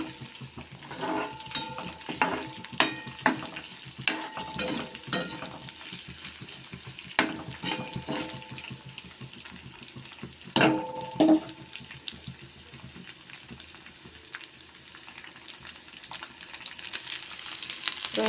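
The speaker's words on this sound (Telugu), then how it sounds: "రొయ్యలు అయితే చక్కగా ఫ్రై అయిపోయాయండి" Prawns and okra fry in a pan with a soft, continuous sizzle, broken by intermittent scraping stirs and spoon clinks, fairly faint and close, with no talking.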